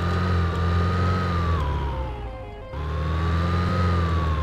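A modded car engine in Project Zomboid hums steadily and revs up and down, dipping briefly before climbing back, loud and close with no talk.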